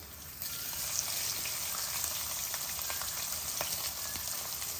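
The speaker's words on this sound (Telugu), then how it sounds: "తర్వాత మన వెల్లుల్లిపాయలు వేస్తున్నాను" Garlic cloves frying in oil for raw mango rasam, a soft, even hiss of sizzling with faint scattered pops throughout, no voices.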